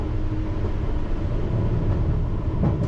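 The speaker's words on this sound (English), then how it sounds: "There's a District Line train going to, where's he going?" A London Underground District Line train, a steady low rumble and rolling roar that holds constant throughout, loud and close, with no talking.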